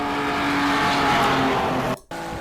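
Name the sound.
touring car engines in a racing sim video game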